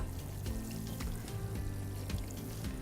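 Water pouring from a watering can fitted with a rose head, a soft, steady diffused sprinkle onto garden seedlings, continuous and fairly quiet with no talk.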